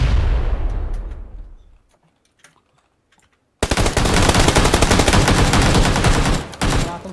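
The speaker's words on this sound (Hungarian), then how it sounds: "Bassz a gránát!" A grenade blast in the PUBG Lite squad shooter, a loud, broadband burst that decays over about two seconds, followed by near silence and then dense, sustained rapid gunfire.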